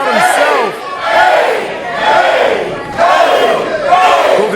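A Pennsylvania wrestling crowd chants loudly in rhythmic waves, each roar of many voices rising and falling about once a second, close and filling the arena.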